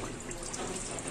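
Water pours steadily into a cooking pot, ready to be boiled for a spinach side dish, a close, continuous splashing rush with no break.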